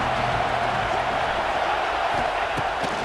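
A stadium crowd in EA Sports College Football 26 roars steadily during a defensive stand near the end zone, a dense continuous wash of cheering with no break.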